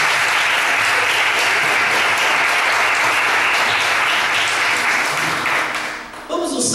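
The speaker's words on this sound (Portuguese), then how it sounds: "Aplauda o Senhor" A church congregation in a Brazilian worship service claps together in loud, sustained applause that fills the room, then fades out at the end.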